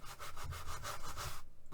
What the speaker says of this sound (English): With the sanding block,